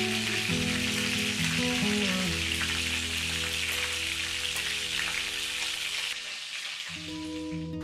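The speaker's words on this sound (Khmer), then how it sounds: "ពេលចៀនយើងត្រូវដាក់ផ្នែកស្បែកចុះទៅខាងក្រោមរួចចៀនវាឲ្យឡើងក្រៀមល្អ" Duck pieces sizzle skin-side down in a hot pan, a steady crackling fry that runs continuously and loudly throughout, with a brief dip near the end.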